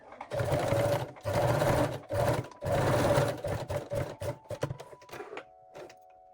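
A sewing machine runs a long straight stitch along a crotch seam, stitching in several loud, close bursts separated by short pauses, then slowing into brief stop-start runs before falling quiet.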